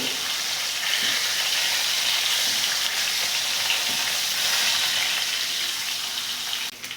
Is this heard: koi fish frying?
yes